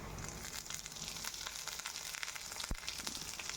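Cumin, mustard seeds and onions sizzle in hot oil for an okra and peanut fry, a steady broadband hiss with faint crackles and one sharp pop near the end, no voices.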